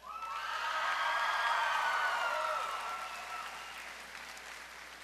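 Sustained applause from a delegate assembly as an unopposed candidate is elected state president by acclamation, swelling quickly to a dense, steady roar of clapping and then tapering gradually, with no talk over it.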